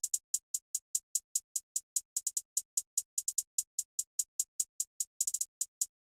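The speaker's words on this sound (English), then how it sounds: "For the hi-hats, pretty much just use one from a basic drum kit" Sampled hi-hat from a basic drum kit programmed in FL Studio, a steady run of crisp, bright ticks with a few quick rolls, heard alone at low level.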